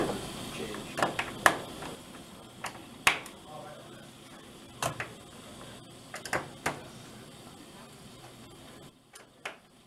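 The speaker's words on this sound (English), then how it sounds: "we take out the 4 screws, one at each corner, that secure the lid in place using a Pozi-drive screwdriver" Four corner screws are removed from the lid of an O2NE+ oxygen device with a Pozi-drive screwdriver, giving sparse sharp clicks and scrapes spread irregularly over a quiet background.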